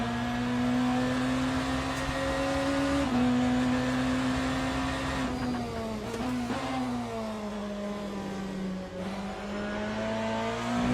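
A Ferrari race car engine drones in Le Mans Ultimate during a multiclass race at Interlagos, a steady high-revving tone that sags and climbs slightly through gear and throttle changes, loud and alone without speech.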